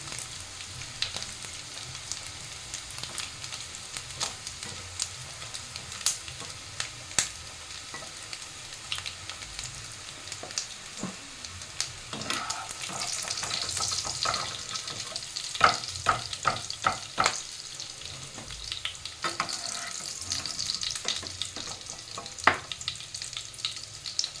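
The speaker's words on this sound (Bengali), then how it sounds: "এইভাবে বাকি বড়াগুলো ভেজে নিতে হবে।" Fish roe fritters shallow-frying in oil, a soft steady sizzle punctuated by light clicks and scrapes as pieces are turned, growing busier and louder toward the middle, close with no voices.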